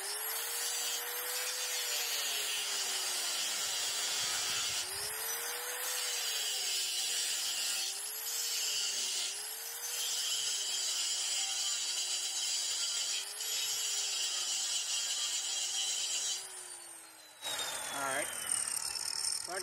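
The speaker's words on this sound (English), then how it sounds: "Flat, and I ground it to what I believe is the edge of the actual fender." Close, loud grinder whine cutting tack welds off a trailer fender, the pitch dipping and rising repeatedly as the disc bites into the metal, continuous with brief pauses and a harsh burst near the end.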